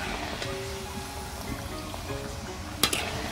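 Pieces of food sizzle and crackle steadily in hot frying oil, a continuous close hiss with a few sharper pops near the end.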